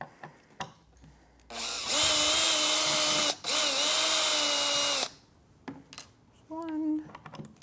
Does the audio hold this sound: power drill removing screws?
yes